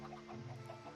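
Minecraft chickens on a chicken farm cluck softly in a brief, faint, repeated pattern with no talking over them.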